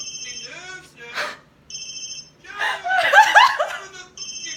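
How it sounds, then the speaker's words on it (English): A telephone ringtone plays in short repeated electronic bursts, loud and close, broken up by a voice and laughter-like sounds between the rings. "Sharon, the fucking phone's ringing"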